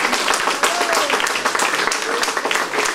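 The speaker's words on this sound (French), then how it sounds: "On les applaudit encore très fort, s'il vous plaît." An audience applauds the Ethnical Dance troupe at an Afro-Caribbean evening show, with dense, steady clapping filling the whole stretch and a voice faintly heard under it.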